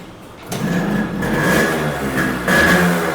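A Yamaha RX motorcycle's two-stroke engine idles then rises in a couple of revving blips, close and fairly loud, with a buzzy tone holding between the pulls.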